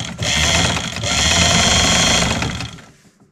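A sewing machine runs steadily, stitching the seam of a homemade inner bag, one continuous loud mechanical whir for about two seconds that tapers off at the end, with no talking.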